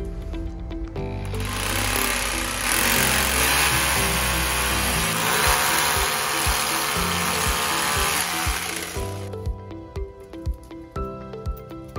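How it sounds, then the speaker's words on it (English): A loud, steady cordless power drill whirring continuously for several seconds while drilling six holes to fix a battery cabinet base, then winding down into shorter revving bursts. "Now I'm going to drill 6 holes and connect this base."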